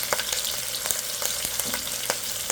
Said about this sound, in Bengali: রসুন পেস্ট এবং আদার পেস্ট 2 চা চামচ দিয়ে এখন এটা একটু কষিয়ে নেব